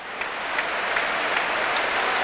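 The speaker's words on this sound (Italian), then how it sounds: "Applausi per Adriano che entra, ma soprattutto applausi e tutti in piedi per Ibrahimovic che lascia il terreno di gioco." A football stadium crowd at an Inter versus Sampdoria match applauds a substitution, broad sustained clapping rolling across the stands with a few sharper bursts, loud and unbroken.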